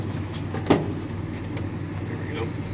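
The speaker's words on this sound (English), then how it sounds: "I let the clutch out in granny, and this thing just crawls" A Ford F150 pickup with a twin-stick transmission crawls along in granny gear, its engine a steady low rumble throughout, broken by one brief knock.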